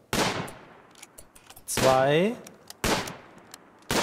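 Gunfire in the video game RimWorld: several sharp, loud shots in separate bursts, with a person talking in between.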